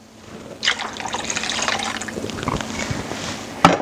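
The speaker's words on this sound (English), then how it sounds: "And 2 cups of just water." Two cups of water poured into a pot of tomato and broth soup for pasta fagiole, a close steady gushing splash starting after a brief pause and running to the end, with a small clink near the finish.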